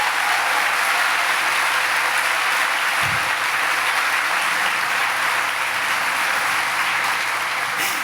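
A church congregation applauds loudly and steadily, dense clapping filling the whole stretch with no break, a brief low thump partway through.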